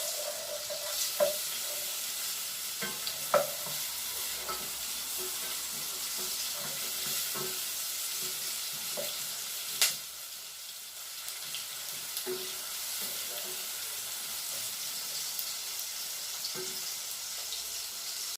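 Green bananas and onions frying in a pan, a continuous hiss of sizzling oil with occasional soft knocks and scrapes of a utensil, steady and close throughout with no talking.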